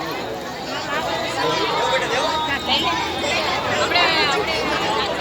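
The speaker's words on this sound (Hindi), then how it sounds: "भीड़ तो बहुत ज्यादा हो रखी है" Dense crowd chatter at a temple bhandara feast (Annakut) at Sagas Bawji Maharaj temple, many voices blending into a constant loud babble with no single speaker standing out.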